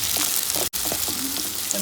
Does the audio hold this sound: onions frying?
yes